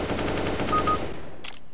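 Rapid automatic gunfire in the video game CS:GO, a tight burst of repeated shots lasting about a second before cutting off, followed by a faint trailing click.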